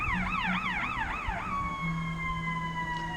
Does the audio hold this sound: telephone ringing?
no